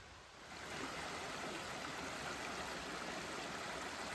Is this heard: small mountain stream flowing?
yes